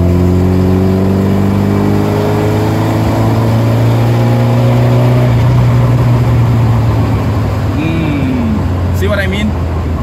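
An Alfa Romeo Alfetta's engine idles and revs in a long, steady drone, heard up close from inside the car. The pitch sweeps slowly, and a short higher rev arrives near the end.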